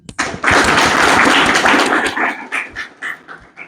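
A brief swell of audience applause at a government inter college function, a dense burst of clapping that breaks into scattered claps, with voices heard around it.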